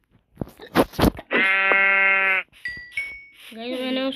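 Goat bleating in a video game: a loud, sustained, strongly voiced bleat lasting about a second, then a shorter wavering bleat near the end, with clattering game sounds before it.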